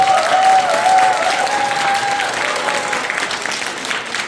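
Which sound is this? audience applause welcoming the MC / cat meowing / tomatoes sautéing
audience applause welcoming the MC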